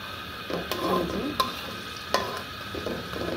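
Mughlai paratha frying in hot oil, a steady soft sizzle with a few sharp scraping clicks of a spatula against the pan, no voices.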